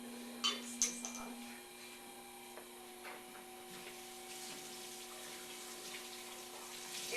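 Tap water runs steadily while clay is rinsed off at a pottery sink, with a few small clicks and knocks near the start and a faint hum underneath.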